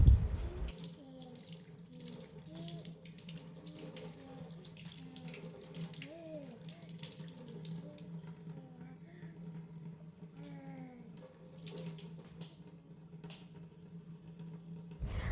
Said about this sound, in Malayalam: പിന്നെ ഞങ്ങളൊന്ന് കൈയും മുഖമൊക്കെ ഒന്ന് കഴുകി